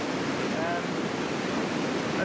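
A river and waterfall rush through Glen Affric in the Scottish Highlands, making a constant, dense roar that fills the whole stretch evenly, with no talking over it.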